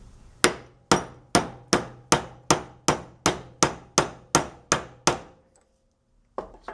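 A bolt is used as a drift to knock a bearing out of a drill press center pulley. About a dozen sharp, evenly spaced hammer blows ring out close and loud, then a pause and one more strike.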